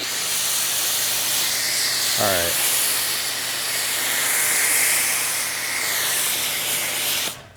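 Loud continuous hissing spray of a foam cannon spraying car wash solution, steady throughout, with a brief spoken word partway through.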